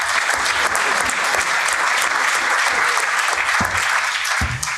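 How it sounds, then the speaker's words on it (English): Loud, close applause from an audience at a social economy event, a dense wall of clapping that continues steadily throughout without letting up. "I think a round of applause for everybody who's managed to make it here tonight."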